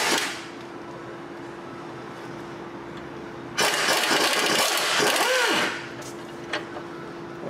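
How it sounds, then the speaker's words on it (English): A 15 mm deep-well socket on a U-joint swivel works the exhaust header flange nuts on a Ford 4.6L V8 Mustang or Crown Victoria, with a loud, harsh two-second burst of ratcheting or driving over quieter background noise. "remove these header bolt flange nuts"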